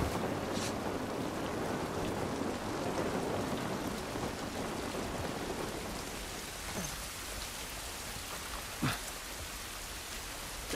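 Rain falling outdoors in The Last of Us Part 1, a constant heavy wash of rainfall with low rumbling underneath and a couple of sharp drip-like splashes near the end.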